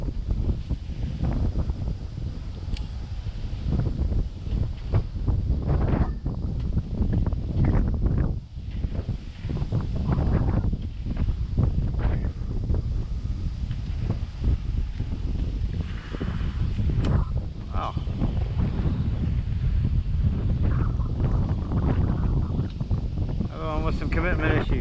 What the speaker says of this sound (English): I'm real sorry about the wind